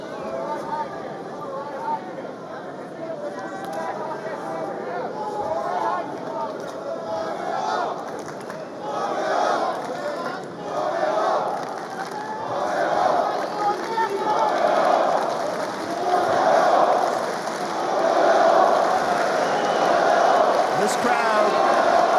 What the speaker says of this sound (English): This crowd just singing the name of Yoel Romero